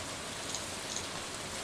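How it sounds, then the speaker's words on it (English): Steady rain falls in the farming video game Stardew Valley, a soft, even patter of drops that continues throughout at low volume with no voices. "Sucks about the rain, though."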